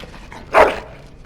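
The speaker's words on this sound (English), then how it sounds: "Bloody dog." A dog in Dragon Age: Origins gives one short, close bark that fades quickly into quiet game ambience.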